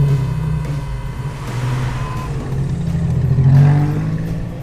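A Ford Capri race car engine drones steadily as it cruises down the finishing straight, a loud, sustained mid-pitched hum that swells slightly toward the end.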